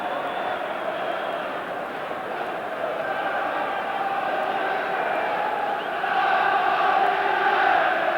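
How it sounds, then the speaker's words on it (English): A large football crowd at an FA Cup match between Nottingham Forest and Manchester United roars steadily in appeal for a corner, a broad sustained wash of voices that swells louder toward the end. "United crowd appealing for the corner"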